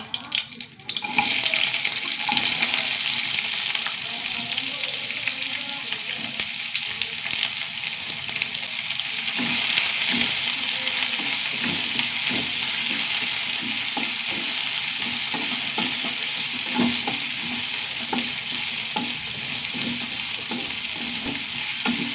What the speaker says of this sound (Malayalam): സവാള ചെറുതായി വയണ്ട വെക്കാം